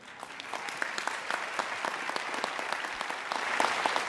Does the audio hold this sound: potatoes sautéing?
no